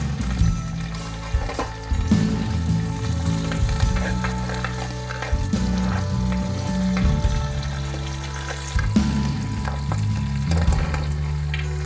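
Curry leaves hit hot oil while cooking a country crab curry, producing a strong continuous sizzle and crackle with occasional stirring scrapes, close and alone without talk.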